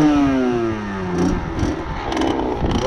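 A Fantic 50 XE moped with its stock, unmodified exhaust revs up and then drops back, the engine note sliding down before a few rough, clattering blips near the end.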